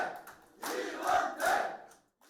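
Supporters cheer and shout in a crowd at a winning candidate's election campaign office, the roar swelling in two loud waves close by before fading out.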